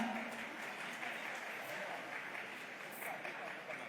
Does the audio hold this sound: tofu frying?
no